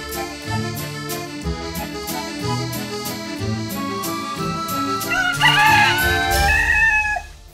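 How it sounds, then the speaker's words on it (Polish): Rooster crowing indoors amid restaurant clatter, a rhythmic background beat behind it, then one loud drawn-out crow rising near the end. "Uwaga, kogut jeszcze zapieje drugi raz."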